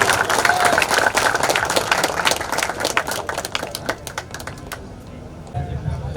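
An audience claps for bodybuilders at a bodybuilding competition: scattered, crisp hand claps rattle on steadily, then thin out and fade toward the end, with voices faintly present underneath.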